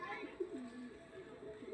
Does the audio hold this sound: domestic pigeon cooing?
yes